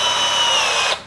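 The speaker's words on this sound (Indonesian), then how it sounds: "sekarang kita coba tambah torsinya di 13 ya. Ini saya pakai skrupnya yang sedikit lebih panjang, 1 in." An INGCO cordless drill drives a 1 inch screw at torque setting 13, a steady high motor whine holding for almost a second before stopping abruptly, close and loud with no talking.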